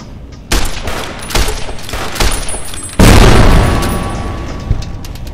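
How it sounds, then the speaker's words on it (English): Explosions and blasts in a video game where mines are being stepped on: several sharp bursts in succession, then one loud deep boom with a long rolling decay, all close and prominent with no talking. "I have no idea what that explosion was"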